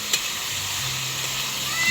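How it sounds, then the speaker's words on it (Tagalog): Sizzling pansit habhab noodles stirred in a hot pan as oyster sauce is poured in, a steady close frying hiss with faint scraping and no talk. "Akin po munang hahaluin habang pong nilalagay ni Jampol yung oyster sauce."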